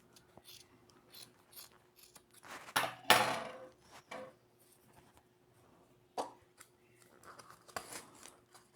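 Scissors cut through a child's cotton sock: several quiet, close, irregular snips and crisp fabric crunches with short pauses between them.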